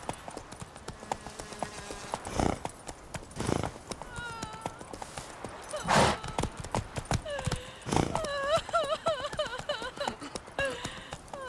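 Hooves of Roach, the horse in The Witcher 3, clip-clop in a steady rhythm, broken by several sharp loud thumps and a whinny, with other game sounds mixed in throughout.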